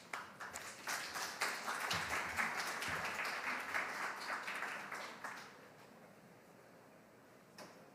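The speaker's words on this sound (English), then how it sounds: "A round of applause, please." Audience applause at a global AI summit on brain-computer interfaces: many hands clapping steadily and fairly softly, then tapering off after about five seconds into quiet room tone with a few isolated claps.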